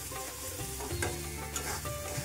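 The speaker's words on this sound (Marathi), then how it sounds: "फोडणी अशी छान खमंग द्यायची।" Dal tempering (phodni) with tomatoes sizzles hard in a pan, a loud continuous crackle with a few sharper pops and stirring scrapes, with no talking.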